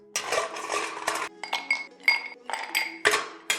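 Ice cubes clinking and rattling into a cocktail shaker glass while a White Russian is being made, a close, bright series of irregular glassy knocks and chinks spread through the moment, with no talk.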